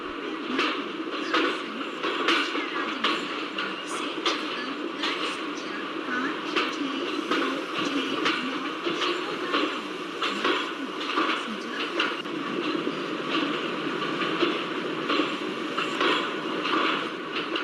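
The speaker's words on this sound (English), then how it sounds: "let's apply the brake of the locomotive and let's stop the train here" A passenger train hauled by a WDM3A diesel locomotive rumbles steadily along the rails with rhythmic clatter, heard from inside over a continuous loud hum, on the Shivamogga Town to KSR Bengaluru route.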